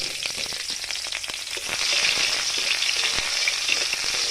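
Onions fry in oil in a wok over a wood-fired stove, a continuous close bright sizzle with crackles and pops and no talking.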